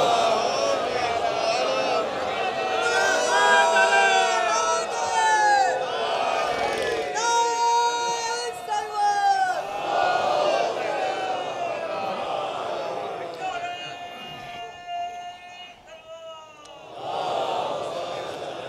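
A gathered congregation at a Majlis-e-Tarheem in an imambara recites salawat in unison, loud overlapping voices rising in chanted waves, with shouted phrases and swelling group response.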